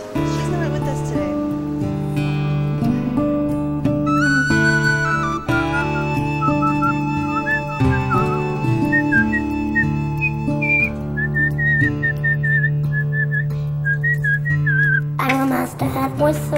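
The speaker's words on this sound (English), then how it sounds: "I'm a master at whistling." A child whistles a wavering, bird-like tune, fairly near and sustained, over a steady bed of background music with voices present.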